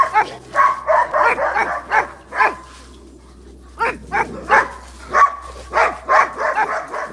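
Several dogs bark repeatedly in quick, loud bursts, pausing briefly before barking again in a close, excited volley.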